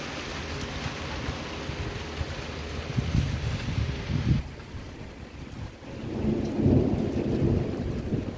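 Light rain falling in Izola on the Slovenian coast, a steady broadband patter with deep low rumbles swelling around the middle and again near the end, no voices.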